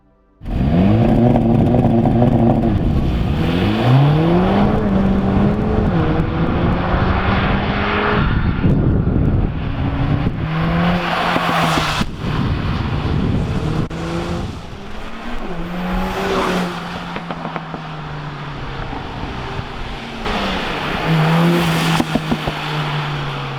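A Mercedes-AMG CLA45 S Shooting Brake engine revs repeatedly, pitch climbing and dropping through gear changes, loud and close with sharp bursts between pulls.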